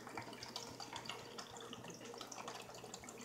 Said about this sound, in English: I'm just gonna start pouring.